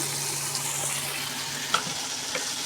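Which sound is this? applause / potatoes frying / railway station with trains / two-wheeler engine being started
potatoes frying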